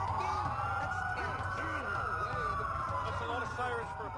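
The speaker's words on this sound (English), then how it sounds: "That's a lot of sirens for a blackout" Police sirens in the video game Watch Dogs wail continuously, a rising and falling tone with several overlapping sirens at a moderate distance, set against a dense background hum.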